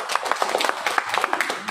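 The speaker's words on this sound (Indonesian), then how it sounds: "Tepuk tangan semuanya buat kita." A seminar audience at a farming talk gives brief, scattered applause, with individual claps distinct and sharp rather than a dense roar, fairly quiet and close.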